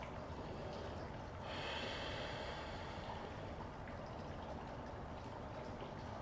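Slow, deliberate breathing during a gentle hatha yoga pose, a soft, close airy inhale swelling and easing into a long exhale over a faint steady hiss, with no talking.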